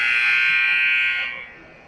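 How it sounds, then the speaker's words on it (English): End-of-period buzzer at a youth hockey game, a loud sustained electronic drone lasting over a second and then cutting off, leaving quieter arena ambience. "And there's the buzzer, because there's our time."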